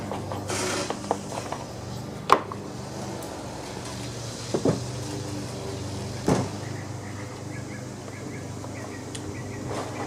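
An Echo leaf blower being cranked by hand: three sharp pull-start strokes at spaced intervals, each a brief rasping rattle, over a steady low background hum, with no engine catching.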